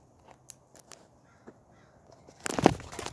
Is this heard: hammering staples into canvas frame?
no